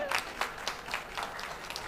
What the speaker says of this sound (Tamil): கைத்தட்டுங்க ஒன்றும் தப்பு இல்லை